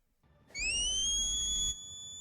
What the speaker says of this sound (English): That is a long-range whistle.